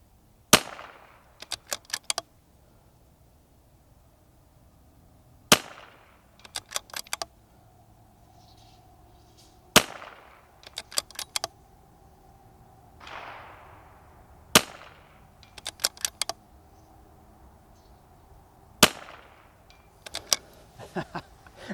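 A Vudoo 360 rimfire rifle fires at targets 150 yards away on a range: five sharp, close cracks spaced about four to five seconds apart, each followed by quick metallic bolt clicks.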